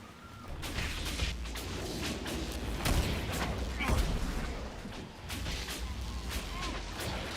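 Dragon Age: Inquisition battle with repeated blasts and crashing impacts spread across a dense, loud wash of combat noise, with a few sharper hits standing out.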